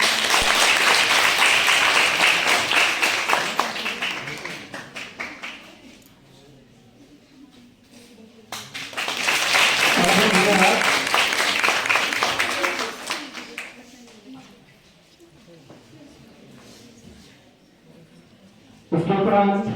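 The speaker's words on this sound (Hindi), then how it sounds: "आपकी तालियां।" Audience applause at a college event arrives in two strong bursts, each fading away into a quiet gap. A third burst of clapping begins right at the end.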